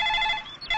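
A telephone rings in a steady, electronic warbling tone for under a second in a Telugu comedy film scene, fairly loud with a brief dip near the end and no voices.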